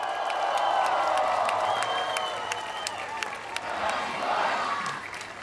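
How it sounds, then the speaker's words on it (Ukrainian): Fans of the Ukraine national football team applaud and cheer as a dense crowd, a steady roar of clapping with scattered whoops lasting throughout, loud and close. "Ваші оплески!"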